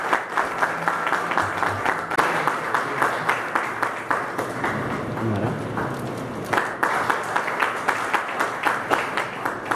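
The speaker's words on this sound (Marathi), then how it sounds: "या टाळ्या त्यांच्या कार्यासाठी आहेत, त्यांच्या समाजसेवेसाठी आहेत" An indoor audience at a music school's inaugural ceremony claps steadily for about ten seconds, a dense, lively patter of many hands swelling and easing slightly but never stopping.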